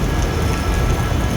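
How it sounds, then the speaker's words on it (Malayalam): Heavy monsoon rain in Kerala pours down as a dense, unbroken roaring hiss, loud and close, with no voices. "നല്ല മഴ ഉണ്ട്."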